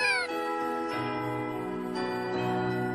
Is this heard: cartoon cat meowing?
yes